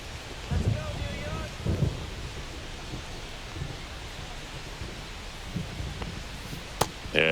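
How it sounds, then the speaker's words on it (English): Steady rain falls over an open-air baseball stadium during a Yankees versus Phillies game, a broad continuous wash of noise with low rumbling gusts and occasional crowd murmur, plus a sharp click near the end. "This rain is not letting up."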